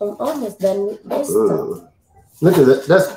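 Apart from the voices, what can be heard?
No everyday noises stand out.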